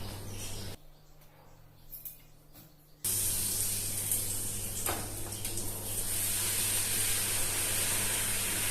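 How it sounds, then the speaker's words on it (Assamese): Luchi, puffed Assamese fried bread, sizzling in hot oil as a steady bright hiss that begins after a short quieter stretch and continues loud and close to the end, with no voice over it. "এতিয়া লুচি ভাজি লওঁ"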